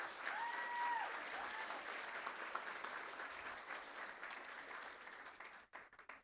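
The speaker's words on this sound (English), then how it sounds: "Let's give them another big round of applause." A school board meeting audience gives a round of applause for students, dense steady clapping fairly distant and quiet, tapering off and cutting out near the end.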